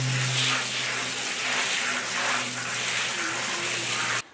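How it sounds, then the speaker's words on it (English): Water gushes steadily for about four seconds as potted rose cuttings are watered in, then stops abruptly at the end. "And the last thing we do is water it all in."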